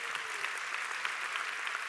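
An audience applauds at a Stellenbosch University AgriSciences graduation ceremony in March 2024: a dense, even patter of many hands clapping, sustained steadily throughout.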